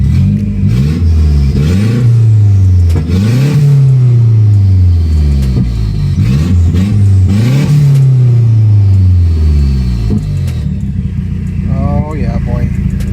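A Mazdaspeed 6 engine with an open downpipe revs repeatedly in loud, raspy climbs and falls, close by, with a rougher idle burble toward the end.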